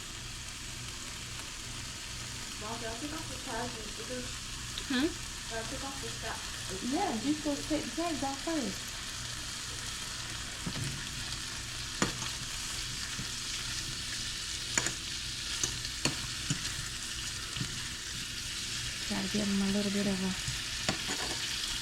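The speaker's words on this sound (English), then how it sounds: "So I'm just frying these up. I'm gonna add a little bit of oil." Constant crackling sizzle of food frying in oil, with a few people talking intermittently over it and occasional clinks.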